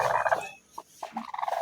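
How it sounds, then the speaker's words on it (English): Brooding hens in a poultry house give low, throaty gobbling clucks in short bursts with a quiet gap between, close by and without talk. "So we have these 3 hens."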